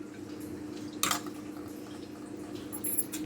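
Cold water is poured into a pan of boiled raw bananas in a home kitchen, with a sudden clatter and splash midway, then soft dripping and a faint metallic clink near the end, heard close with no talk.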